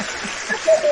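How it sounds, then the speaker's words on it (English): Audience clapping to welcome a guest on a talk show, a brief, fairly soft patter of applause with a voice briefly heard over it. "Look, the audience is clapping."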